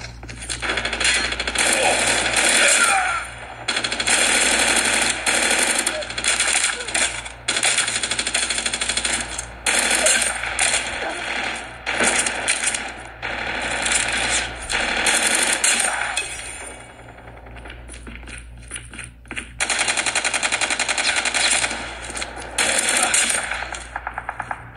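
Dense, continuous rapid gunfire and clattering game effects from PUBG played on a Huawei Nova 7 phone, loud and sustained with brief dips, no talking over it.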